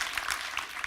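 Clapping from a forum audience after a panel discussion at the GlobeSec Forum 2025, a short, even burst of many hands that stays steady throughout.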